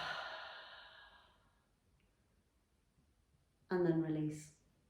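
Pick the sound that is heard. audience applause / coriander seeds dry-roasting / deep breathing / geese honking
deep breathing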